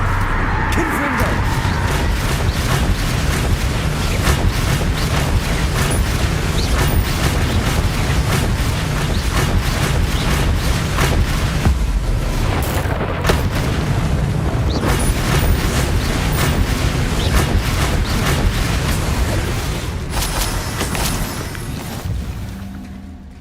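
A Confringo fire blast spell going off in combat in Hogwarts Legacy, heard as a dense run of loud booming explosive bursts and crackles that carries on for the whole stretch, with voices shouting amid the din.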